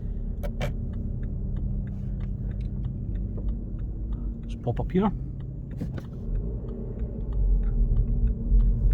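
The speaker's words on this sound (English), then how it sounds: "So the clutch there pulling away, really nice and firm" A BMW 116d diesel hatchback pulls away and drives on with a steady low engine rumble and road noise, a voice speaking briefly over it partway through.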